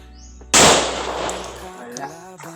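A sharp, loud gunshot bursts out suddenly and decays, followed by a fainter crack; a voice is audible underneath.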